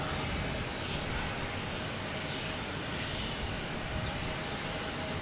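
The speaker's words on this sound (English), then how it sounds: "That was a rocky takeoff." A jet airliner takes off at Boston Logan Airport, giving a loud, continuous broadband engine roar that holds steady throughout, with no talk.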